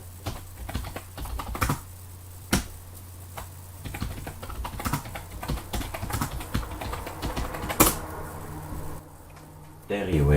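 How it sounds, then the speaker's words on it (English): Typing on a computer keyboard at a desk, bursts of quick clicking keystrokes with a few louder sharp taps, close to the microphone, while a person talks intermittently over a low electrical hum. "Oh, keyboard."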